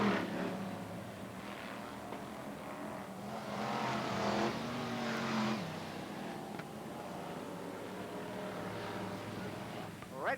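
BriSCA Formula 1 stock cars roaring past after the chequered flag at a 1996 Kings Lynn semi-final, a swelling engine rush that fades into steady track noise beneath a commentator's voice.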